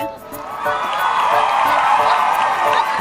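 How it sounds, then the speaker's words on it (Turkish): A crowd of children cheers and whoops for the winner of a water war challenge game, a steady bright roar of shouting voices with some clapping underneath, lasting throughout. "Evet alkışlıyoruz Alp'i."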